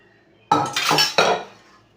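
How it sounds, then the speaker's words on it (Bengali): Boiled vegetable stalks are tipped into a metal colander close by, making two quick rattling, clattering bursts that fade out. "এটা সিদ্ধ হয়ে গেছে ঝাঁঝরিতে ঢেলে নিলাম"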